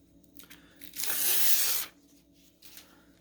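Loose threads snipped while sewing a sea otter piece, one sharp close cutting burst lasting under a second, framed by small quieter rustles and snips before and after.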